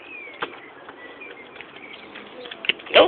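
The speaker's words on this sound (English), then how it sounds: "This bird goes in the house." Pigeon or dove indoors in a house, with soft wing flutters and faint cooing throughout, a louder burst of flapping near the end, and muffled voices in the background.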